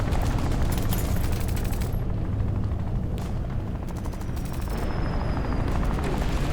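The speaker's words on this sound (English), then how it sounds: "This light's making helicopter noises." A light in the horror video game In Sound Mind gives off a helicopter-like noise, a loud, continuous rumbling whir with rapid fluttering pulses that runs for the whole stretch, with no talking.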